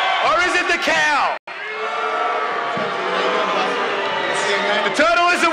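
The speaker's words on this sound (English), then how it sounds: "The crowd's gonna have to decide who won this." Crowd at an Ellismania musical chair fight event cheering, whooping and bellowing loudly to pick a winner, a dense roar of many voices with a brief drop near the middle.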